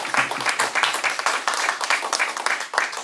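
Audience clapping at a live broadcast talk event, a steady moderate round of applause from a room of people, heard alone.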